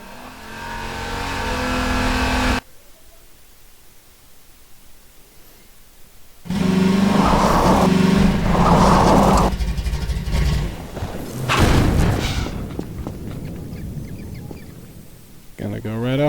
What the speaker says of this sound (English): The audio for the buggy was challenging because we wanted it to feel like a really powerful vehicle that's driving along at super high speed